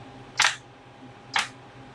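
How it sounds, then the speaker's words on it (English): The plastic bottom panel of an Acer Aspire 5 A515 laptop snaps into place, two sharp clicks about a second apart, close and crisp over a quiet room hum. "So the thing snaps back together."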